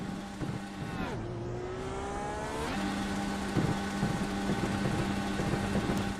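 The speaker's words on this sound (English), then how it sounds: "you can see, the revs and hear the engine as well" Race car engine in a sim racing game revving hard at full throttle with the clutch in, rising and falling whines then holding a steady high drone, loud and alone with no talk.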